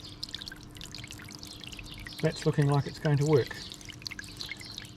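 Garden water pours steadily into a barrel and birdbath outdoors, a continuous trickle under wind noise, with someone speaking briefly midway.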